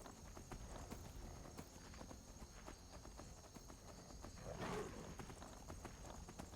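A horse's hooves clip-clop in a steady walking rhythm in Skyrim, faint and quiet throughout, with a slightly louder scuff near the end.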